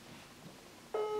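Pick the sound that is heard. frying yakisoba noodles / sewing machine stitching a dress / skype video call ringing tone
skype video call ringing tone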